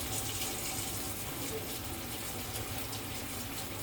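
Herbs being rinsed under a running kitchen tap while making salsa and guacamole, a steady faint rush of water with no clear breaks throughout.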